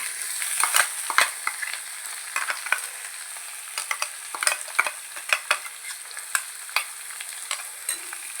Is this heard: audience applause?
no